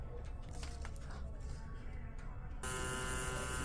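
A tattoo machine fitted with a round liner needle buzzes steadily and closely, its drone growing more prominent and tonal near the end, with some background noise and faint speech.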